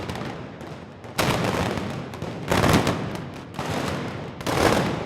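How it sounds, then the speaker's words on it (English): Arquebuses fire during the Moors and Christians fiesta in Alcoy, with four heavy, booming volleys amid a crackle of scattered smaller shots, loud and dense and echoing, with no voices. "hundreds of celebrants relive with their arquebuses the perpetual confrontation between the cross and the half-moon"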